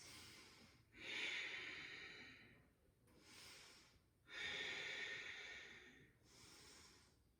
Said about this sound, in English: Deep ujjayi breaths.